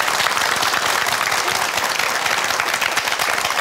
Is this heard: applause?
yes